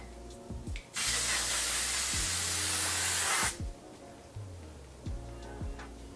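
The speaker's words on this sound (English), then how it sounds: "I'm gonna seal everything with this setting spray." L'Oreal makeup setting spray fires one long, close hiss lasting a few seconds, framed by quieter low sounds before and after.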